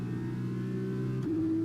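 Simulated Formula 1 car engine in the F1 2021 racing game, a steady droning mid-pitched whine that holds, then steps up in pitch near the end as the car accelerates, with no talk over it.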